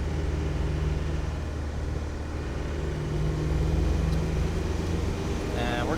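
A 1995 Land Rover Defender 90 with a 300Tdi diesel driving in fourth gear, a steady close engine drone and road rumble from inside the cab, with brief sounds near the end.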